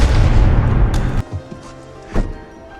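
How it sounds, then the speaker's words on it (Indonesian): Film gunshot: a heavy, booming blast that rings out and decays, followed by a couple of fainter thuds and one more sharp crack a moment later. "tembakan Ani tadi meleset dan hanya menggores wajah Cat"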